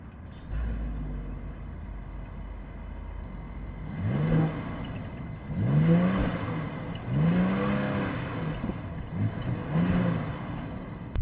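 Audi A6 Avant 3.0 V6 engine, muffled and quiet, rising in three or four soft rev swells after a low idle, heard from a moderate distance with no talk.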